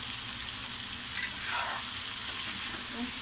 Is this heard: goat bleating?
no